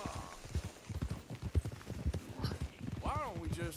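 Horse hooves clip-clop steadily in Red Dead Redemption 2, a draft or Turkoman horse walking at a moderate pace, with in-game voices talking over the hoofbeats and a brief whinny near the end.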